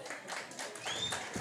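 Audience applause at an eKasi entrepreneurs event in Motherwell, a brief burst of scattered clapping from a crowd, fairly quiet and somewhat distant, with a faint whistle-like tone over it.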